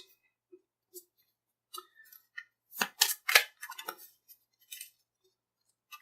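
A quick riffle of a Dragon Ball Super card game deck, a dense burst of crisp flutters in the middle, bracketed by a few light taps and clicks before and after.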